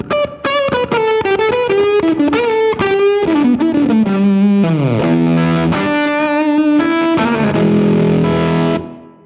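Electric guitar played through an effects pedal with its gain switch on, giving loud, distorted sustained notes and sliding chords with a rich, gritty, effected tone, close and alone, ending in a decaying ring.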